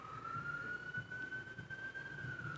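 An ambulance siren sounds from outside, one steady rising-and-falling wail held throughout at moderate distance under a low background hum.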